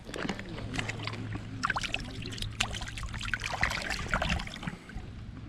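Water trickling and splashing continuously as a largemouth bass caught on a Zebco Dock Demon combo is released, steady near splashes with a low hum underneath and no talking.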